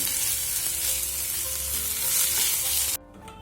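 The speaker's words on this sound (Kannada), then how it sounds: "ನೋಡಿ ಇದು ಚೆನ್ನಾಗಿ ಫ್ರೈ ಆಗಿದೆ ಈ ಪುದೀನ ಮತ್ತು ಕೊತ್ತಂಬರಿ ಸೊಪ್ಪು ಫ್ರೈ ಆದಮೇಲೆ" Mint and coriander leaves fry in a pan for a horse gram chutney, a loud, dense hiss of sizzling oil that cuts off abruptly near the end, leaving a quiet room.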